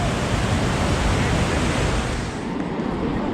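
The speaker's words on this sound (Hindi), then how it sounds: "पत्थरों के अंदर से पानी के गिरने की जो आवाज़ है" Steady, dense rushing of river water tumbling over rocks on the Kedarnath trek in Uttarakhand, a continuous loud roar with no pauses or voices.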